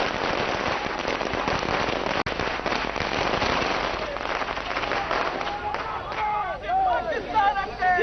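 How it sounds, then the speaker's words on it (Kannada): BJP party workers burst firecrackers in celebration outside the party's central office in Bengaluru, a dense crackling barrage of pops with one sharp loud bang, under crowd noise and voices. "ಕಾರ್ಯಕರ್ತರು ಪಟಾಕಿ ಸಿಡಿಸಿ ಸಂಭ್ರಮಿಸಿದರು"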